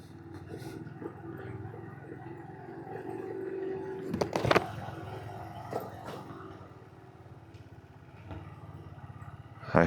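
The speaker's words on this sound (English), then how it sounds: "I heard some engine noise." A motorcycle engine drones steadily on a road in Sichuan, close and continuous for the whole stretch, with a brief clattering burst midway and a swell at the end; no one speaks.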